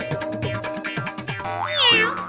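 A cat meows in a drawn-out, rising and falling call, loud and close, following a run of short vocal sounds in a comic home scene.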